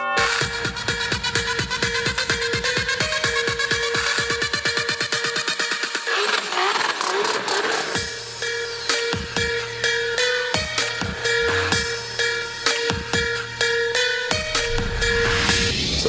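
Full, bass-rich electronic music plays steadily with a driving beat from a Promate Bluetooth speaker with bass radiators; the low end briefly thins out midway before the groove returns.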